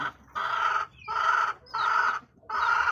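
Chickens with colds call from a poultry house in four loud, evenly spaced bursts of clucking and crowing, close by with short quiet gaps between them and no voices.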